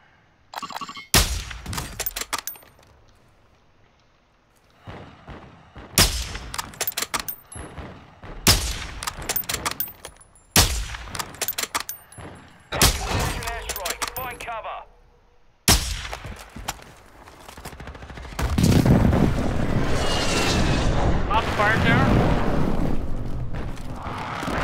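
Video game gunfire, repeated loud bursts of shots separated by short pauses, closing in a long sustained rumbling barrage.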